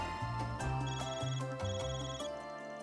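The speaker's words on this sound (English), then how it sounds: "Your CFA's ringing, Van." A CFA phone rings in the video game Trails Through Daybreak as a bright, repeating electronic ringtone pattern of short tonal notes in a steady rhythm, clear and alone.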